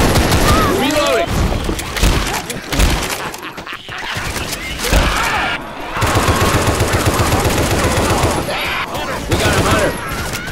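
Rapid bursts of automatic gunfire ring out almost nonstop during a zombie fight in Left 4 Dead 2, loud and close, with players shouting over the shooting.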